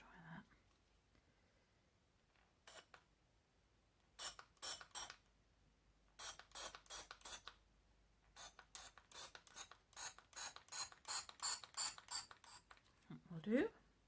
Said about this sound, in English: I could spray some in, let's try that.